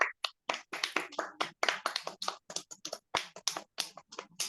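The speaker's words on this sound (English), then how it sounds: "can we have one more round of applause for our club, please?" Applause for a Toastmasters club at a meeting, heard as sparse, separate claps with gaps between them, close and dry, with no talk over them.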